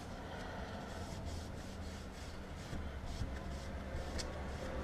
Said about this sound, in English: I'm starting to scuff it, which is what you want to do